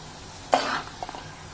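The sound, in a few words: dry prawns curry with cumin-fenugreek powder stirred and sizzling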